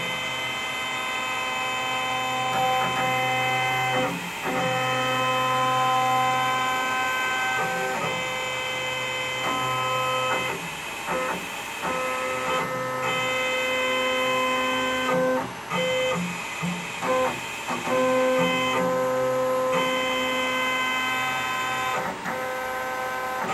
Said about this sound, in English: So now it's much slower. Sounds like a freaking printer too.